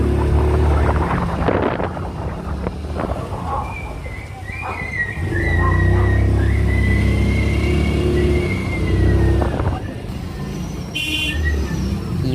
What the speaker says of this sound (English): We are on the bike